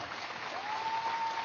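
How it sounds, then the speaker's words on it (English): A large meditation summit audience applauds in a steady, dense wash of claps, moderately loud and continuous throughout, with no talk over it. "Let us all clap a little louder"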